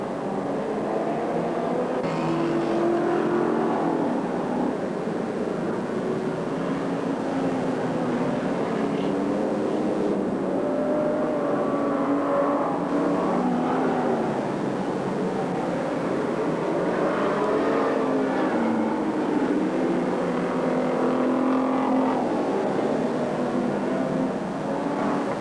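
Race cars in a 1985 100-lap event at Alexandra Speedway roar continuously around the track, engines rising and falling as they pass, heard from a distance with no clear voices.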